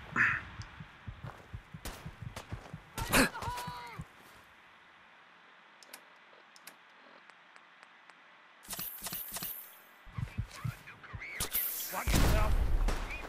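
A quad rocket launcher fires in Fallout 4: sharp launches and heavy booming blasts come in scattered bursts, with quieter stretches of game ambience between them and a dense cluster of explosions near the end.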